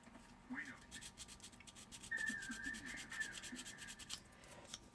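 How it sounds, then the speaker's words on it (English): Sanding sticks rub back and forth over a small scale-model hood hinge part, making soft rasping strokes that come and go at close range, with a brief higher squeak midway. "you'll have to sand these down. So grab your sanding sticks of your choice."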